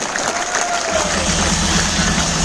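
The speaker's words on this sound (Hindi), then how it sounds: "बहुत सारे ईमानदार और सच्चे लोग इस हॉल में आए, एक बार तालियां बनती हैं" Audience applauding inside a hall during a business training event, a dense steady wash of clapping and crowd noise filling the room, loud and sustained throughout.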